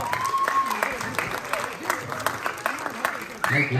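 A theatre audience at a film first-look launch bursts into scattered clapping beneath someone speaking over a microphone, the applause pattering irregularly under the talk throughout.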